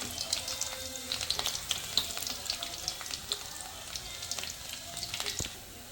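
Garlic hits hot oil for a Kerala buttermilk curry (moru kaachiyathu), a bright, crackling sizzle that spits and pops continuously, fairly close, with no talking.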